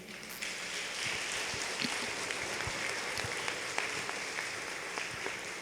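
Church congregation at a family-week service claps steadily, a broad, continuous wash of applause from a crowd with scattered sharper claps standing out, heard at a moderate distance and without speech.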